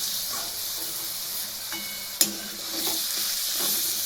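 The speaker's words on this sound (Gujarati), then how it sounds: "ઘી અને તેલનો આપણે મિક્સમાં વઘાર કરવાનો છે।" Ghee and oil heat together in a pan for tempering a kaju paneer curry, giving a steady loud sizzle and hiss with one sharp crackle midway and no talking.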